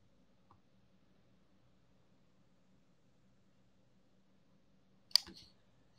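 Computer mouse clicks while operating LVSim simulation software, one faint click early, then a sharper louder double click near the end over a quiet hum.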